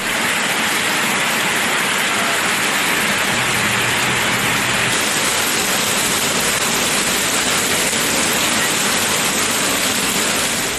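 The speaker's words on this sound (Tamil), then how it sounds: "மதுரை மாவட்டம் திருமங்கலம் மற்றும் அதன் சுற்றுவட்டார பகுதிகளில் பலத்த மழை கொட்டியது" Heavy rain pours down over Thirumangalam in Madurai district, Tamil Nadu, a loud, steady, dense roar of water hitting surfaces that holds without a break throughout.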